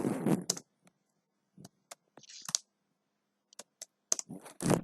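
Keystrokes on a computer keyboard as the ip route command is entered while configuring a router: short, sparse clicks in small irregular bursts with quiet gaps between them.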